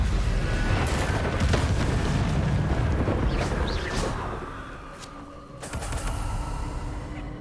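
A fiery Confringo spell explosion in the Hogwarts Legacy video game lands as a loud, sustained booming burst, followed by a quieter lull and then a second, sharper blast with a rumbling tail.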